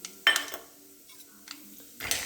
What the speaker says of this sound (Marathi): त्यामध्ये शेंगदाणे घालूया.